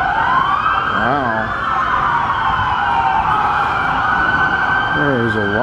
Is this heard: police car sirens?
yes